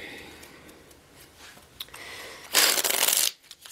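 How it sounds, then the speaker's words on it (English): Tarot cards shuffled in a sustained, fairly loud riffling burst that lasts under a second, preceded by quieter soft card handling and light rustles. "One more shuffle in their spiritual life."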